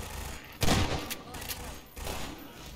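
Sniper gunfire in the video game Half-Life 2, a loud burst of shots followed by a few fainter cracks and another hit, sounding mid-distance over in-game ambience.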